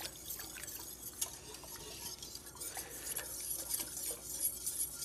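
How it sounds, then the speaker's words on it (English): A spoon stirs slightly warmed milk into a bechamel sauce in a pot, giving soft continuous scraping and light liquid swishing with occasional small clinks, close and fairly quiet, without talking. "you want to keep stirring it"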